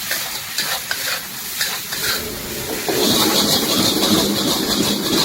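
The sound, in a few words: stir-frying chowmein noodles with sauces on street stall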